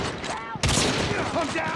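Gunfire in Call of Duty Mobile during a sniper-only team deathmatch, with a sudden loud burst of shots over steady battle noise and a voice shouting in the game.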